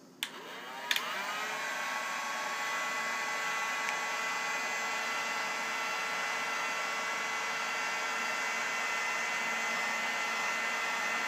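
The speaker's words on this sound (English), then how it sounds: "Or you can take and use the heat gun on it." A heat gun blows a steady, even whoosh as it shrinks heat shrink tubing onto a wire, starting with a couple of clicks and then running continuously at moderate volume, with no talk.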